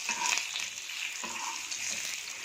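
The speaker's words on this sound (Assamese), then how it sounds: "আলুখিনি অকণমান ৰঙচুৱাকৈ ভাজি ল'ম।" Potatoes frying in a little oil in a pan, browning for a homemade chicken biryani: a steady, close, bright sizzle with faint stirring scrapes, and no voices.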